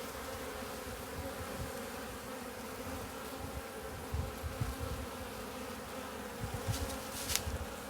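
Honeybees inside an open hive produce a dense, continuous buzzing drone close by, with individual bees flitting nearer now and then and no talk over it.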